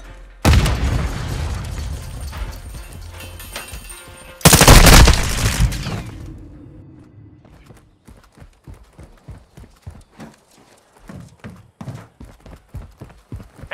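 Call of Duty: Modern Warfare II Hardpoint match, a loud burst of gunfire followed by a heavy grenade-like blast that fades into a rumble, then a run of quick footsteps.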